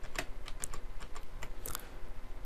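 Mouse clicks on a computer while working with shape tools in Flash CS4: a quick series of sharp, close clicks, some in double-click pairs, with no talking.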